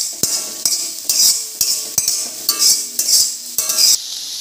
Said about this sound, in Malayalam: ചെമ്മീൻ ഇട്ട് കൊടുക്കണ്ടേ കേട്ടോ, നല്ലപോലെ ഇളക്കി കൊടുക്കാം.